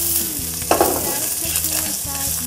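Boiled vegetables hit a wok already holding shrimp fat, minced garlic and shiitake mushrooms, giving a steady close-up sizzle with stirring scrapes and a brief louder burst as they land.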